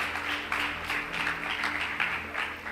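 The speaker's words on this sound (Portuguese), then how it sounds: "Vamos aplaudir a Jesus por isso." A church congregation bursts into sustained applause, a dense, continuous wash of clapping from many hands that fills the room evenly for several seconds with no voices standing out.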